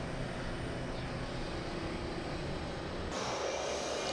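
DHC-6 Twin Otter twin-turboprop in a flight simulator game, engines running steadily in reverse thrust with a dense, even roar and a brief shift in tone near the end.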